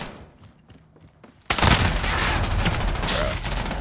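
M4 rifle fire in Call of Duty: Modern Warfare Beta breaks in abruptly after a quiet stretch, a loud, dense run of rapid automatic shots with boomy low-end thumps, sustained to the end.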